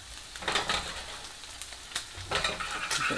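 Garlic oil sizzling in a pan with steady frying crackle, rising in bursts of stirring or tossing, close and fairly loud with no voice.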